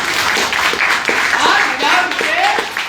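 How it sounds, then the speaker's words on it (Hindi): An audience at a Modicare training session claps together in a continuous burst of fairly close, loud applause that holds steady without a break. "ताली जोरदार लगी।"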